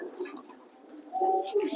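Pigeons coo softly in a loft nearby, a low burbling call that swells louder toward the end, with faint background rustle.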